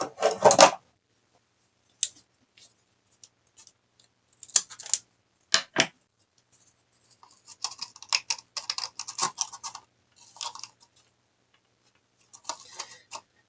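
Scissors snip material for a shamrock topiary decoration, with short crisp cuts coming in scattered bursts and clusters separated by pauses, close up and moderately loud.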